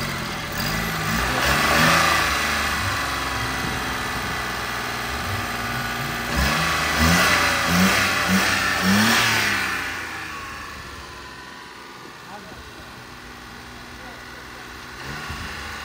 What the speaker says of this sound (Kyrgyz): Мотор ровно иштеп турат